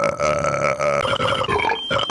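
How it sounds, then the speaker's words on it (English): A film character lets out a long, loud, throaty burp lasting about two seconds, heard up close with no talking over it. "Henry escapes their clutches by burping."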